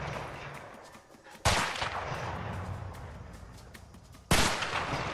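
Two loud, sharp gunshots in A Way Out, spaced about three seconds apart, each a sudden broadband crack with a decaying tail over quiet game ambience.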